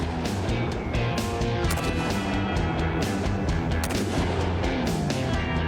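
Rapid volleys of gunshots ring out one after another against a car at an outdoor firing range, with loud, dense automatic fire and sharp repeated cracks throughout.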